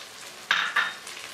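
A small pinch of cumin seeds dropped into a hot pan over a fish and pea yogurt salan, two short sharp sizzling bursts close by over a faint background hiss, with no talking.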